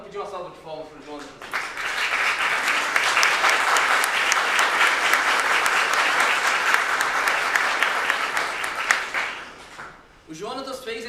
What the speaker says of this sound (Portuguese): pedir uma salva de palmas para o Jonatas.